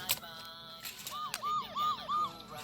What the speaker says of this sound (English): And we also have a police car.